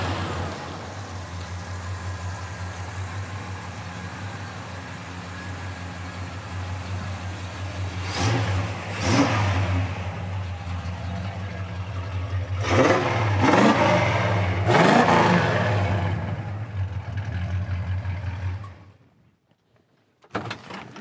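A 1969 Pontiac GTO with its numbers-matching Pontiac 400 V8 idles steadily, then revs in several sharp bursts before cutting off into silence; no talking.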